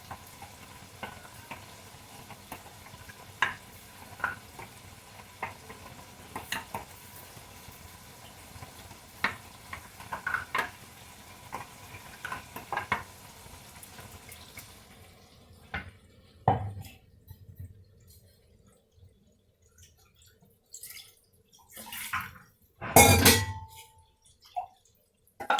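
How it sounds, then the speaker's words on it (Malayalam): A spoon stirs cashew theeyal, a Kerala curry, in a pan after a little water goes in, making soft scraping and light sizzling under steady kitchen background, then sparser clinks and a few louder pot knocks near the end. "നമുക്ക് ശകലം വെള്ളം ഒഴിച്ച് മിക്സ് ചെയ്യുവാണ്."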